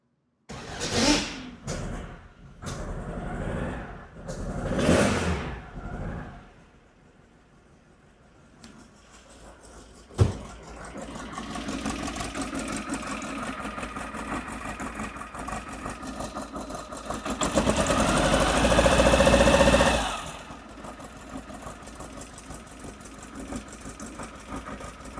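A car engine with Weber IDF carburetors runs during tuning, a steady close idle hum after some early knocks, swelling louder for a few seconds before settling back.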